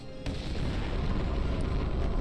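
A power plant explodes in the Roblox video game, a sudden loud blast followed by a sustained deep rumbling roar that fills the whole stretch without letting up.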